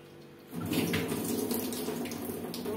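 Prawns being washed under a running kitchen tap: a steady, close rush of water into a sink starts after a brief quiet moment and continues unbroken, with no talk.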